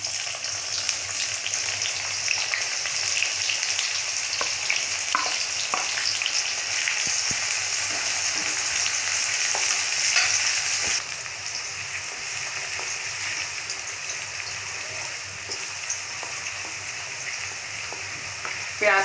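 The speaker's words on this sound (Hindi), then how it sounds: "प्याज को हम लाइट पिंक होने तक भून लेंगे।" Onions sizzle in hot oil as they fry to light pink, a continuous close hiss with scattered crackles and stirring that softens slightly partway through.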